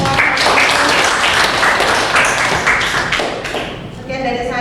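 An audience applauds at the close of a positive-culture dissemination session, sustained dense clapping that fades after about four seconds as a voice begins speaking.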